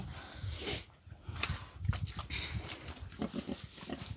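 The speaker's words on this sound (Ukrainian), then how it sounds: "Хороша свинка." A pig on a village farm grunts and snuffles close by in short irregular bursts, with shuffling and rustling movement around it in a quiet yard.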